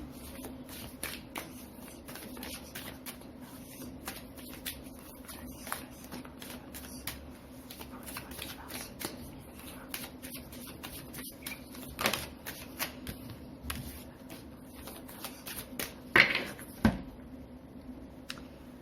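A deck of oracle cards is shuffled and cut by hand, quiet rapid riffling flutters and soft card slaps in uneven bursts, close and faint, with a sharper snap near the end.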